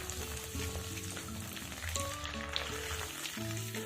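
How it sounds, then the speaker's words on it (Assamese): A vegetable fritter frying in oil in a wok over a medium gas flame gives a steady close sizzle with crackling bubbles throughout, and no one speaks. "কেৰাহীটোত মই আগতে এটা ভাজি লৈছোঁ আৰু মই গেছটো মিডিয়ামতে ৰাখি দিছোঁ"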